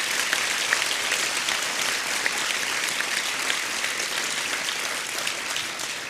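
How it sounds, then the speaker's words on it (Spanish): An audience at a Bolivian political event led by Evo applauds, steady, dense clapping from a large crowd that holds at an even level throughout. "les pido un aplauso intenso."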